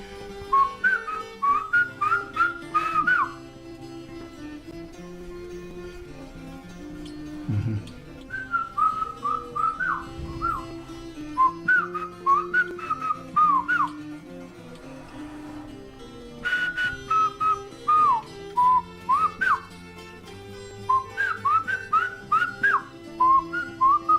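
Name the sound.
Chiapan Chinantec whistled speech, whistling instructions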